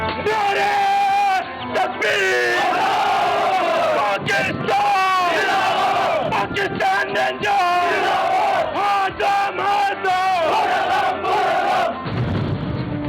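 Pakistan Rangers soldiers at a post near the Indian border roar their battle slogan together in loud, sustained group shouts and rhythmic chanting bursts.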